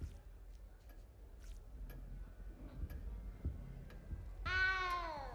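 A small cat in Hogwarts Legacy lets out a short, rising meow near the end, clear and close over low background ambience and faint ticking.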